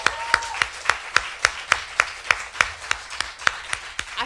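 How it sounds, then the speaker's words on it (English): Steady, evenly spaced hand claps from an audience at a student election candidate event, sharp and close, keeping a regular beat for several seconds without any voices. "Can we give Sarah a massive round of applause?"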